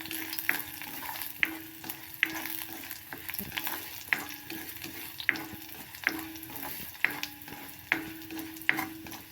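Sliced red onion sizzles steadily as it fries in a pan for a quail egg curry, with a spoon scraping and stirring in a regular rhythm about once a second, close up and with no talking.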